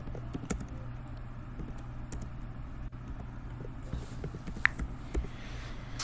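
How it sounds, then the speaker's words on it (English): Fast, irregular key clicks from typing on a computer keyboard during a livestream, fairly faint over a steady low background hum with no talking. "I'm typing something."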